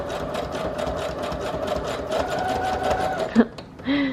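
A sewing machine stitches a collage masterboard tag in a rapid, even run of close needle strokes, stopping near the end before a brief light clatter.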